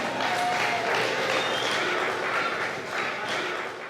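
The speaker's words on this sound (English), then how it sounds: "Let's give this fella a big round of applause." A live audience claps loudly and continuously at an entertainment show, a dense wash of applause that tapers slightly toward the end.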